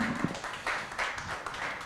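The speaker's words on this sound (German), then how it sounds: "wenn Sie den Applaus hier hören, denken Sie natürlich, hier ist riesenvoll" A small group of colleagues claps softly in a room, a thin scatter of individual hand claps at low volume.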